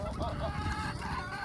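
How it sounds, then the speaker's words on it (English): A chicken clucks in short repeated calls at a farm enclosure on a South African road trip stop, fairly close and clear over light outdoor background. "Look at that chicken."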